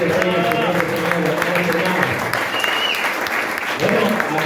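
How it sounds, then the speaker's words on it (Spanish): A church congregation claps loudly and steadily in praise, the applause sustained throughout with voices and a tonal music or singing layer running beneath it. "Fuerte el aplauso al Rey de Reyes"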